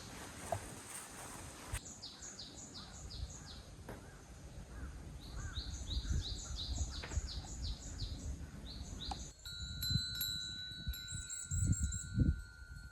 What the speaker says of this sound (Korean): 새소리와 풍경소리만 들렸습니다